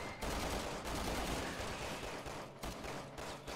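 Dense rapid gunfire from the video game Resident Evil 6, sustained bursts of shots filling the whole stretch, loud and continuous with brief dips, no talking over it.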